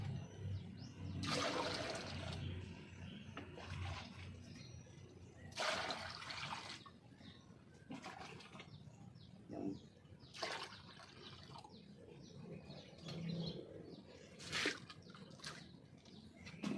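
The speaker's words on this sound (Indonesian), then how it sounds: "Cuci tangan bau, cuci tangan bilas doang" Hands rinsed under running water in a home garden, with several separate splashing bursts of flow coming and going at a moderate distance and no talking.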